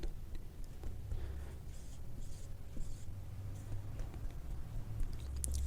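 Pen or pencil scratches numbers onto paper during a maths lesson, soft irregular strokes close by in a quiet room.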